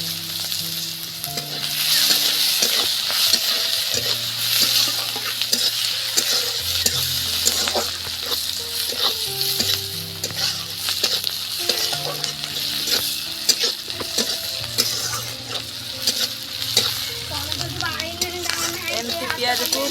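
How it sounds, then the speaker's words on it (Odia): Onions fry in hot oil in a pan, a loud continuous sizzle with spatula stirring and scraping, and a voice speaks briefly over the cooking. "ଏମିତି ପିଆଜକୁ ଭଲସେ ଭାଜିଦେବା।"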